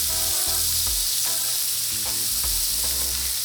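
Plant-based Beyond Meat mince sizzles loudly in a hot pan as chunks are broken up and stirred, a constant bright hiss punctuated by several low thumps and scrapes roughly every half second.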